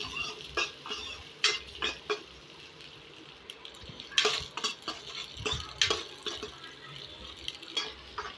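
Onion, chilli and curry leaves sauté in oil in a pan, giving a faint, steady sizzle broken by repeated scraping stirs of a spoon, quiet and close, with no talking.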